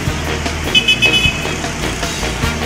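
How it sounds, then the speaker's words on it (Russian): Busy traffic at an uncontrolled intersection in Vietnam, with a dense steady rumble of motorbike and car engines, several short horn toots, and close passing vehicles. "А это вот перекресток. Здесь нету светофора, регулировщика, двойных, сплошных, тройных."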